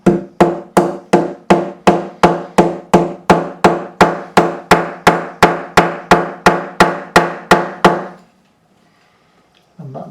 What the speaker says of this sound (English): I'm just going to gently tap in with a hammer.